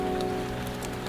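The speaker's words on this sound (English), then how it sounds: "Rain on leaves, rain on rooftops, tiny puddle plops." Rain falls on leaves and rooftops as a steady, dense hiss of countless drops, even and continuous for a brief moment with no voices.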